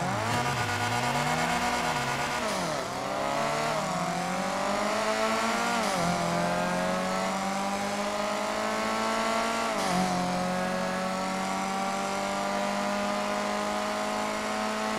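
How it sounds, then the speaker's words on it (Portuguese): Turbocharged VW Voyage engine pulling at full throttle, a loud continuous rising roar climbing through the gears with brief dips at each shift, heard close and without talk. "Vamos puxar de novo agora de motor cheio."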